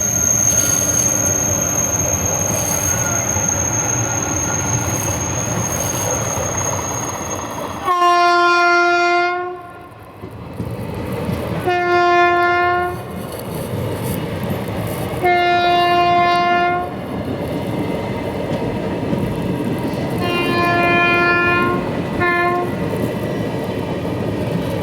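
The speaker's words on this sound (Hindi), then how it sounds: "बागलकोट की तरफ बढ़ रही है हॉस्पेट मुंबई सुपरफास्ट एक्सप्रेस।" The Hospet–Mumbai Superfast Express moves along the line with a steady rumble, and its horn sounds in four loud blasts, the last one doubled. No one speaks.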